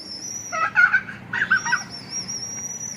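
A rooster calls outdoors in two short, loud raspy bursts over a steady high background hum.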